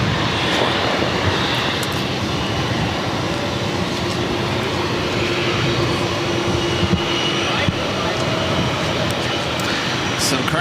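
A JetBlue Embraer E190 jet at Boston airport makes a loud, steady engine roar close by, with a faint hum underneath and a few short clicks, and nobody talks over it.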